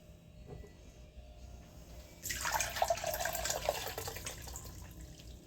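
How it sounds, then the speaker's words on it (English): Water kefir being strained in a kitchen, a steady pour of liquid splashing through a strainer that starts abruptly partway in and runs on close and fairly loud, after a few quiet seconds of faint background noise. "Let me go ahead and strain some more kefir water."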